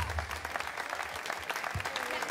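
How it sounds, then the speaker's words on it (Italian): An outdoor crowd on a piazza in Jesolo applauds performers on stage, a moderately faint, steady patter of clapping with some voices mixed in. "si meritano l'applauso, grande, veramente, artiste straordinarie"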